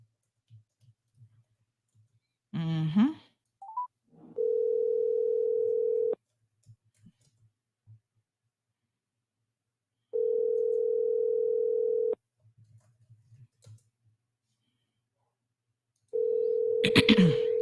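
A telephone line sounds while a number is being called: a few clicks, then three steady two-second tones separated by stretches of silence.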